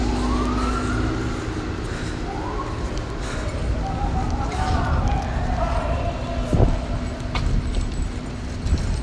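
A police car siren wails during a street march in Washington DC, rising and falling under a noisy crowd and traffic, with people talking nearby.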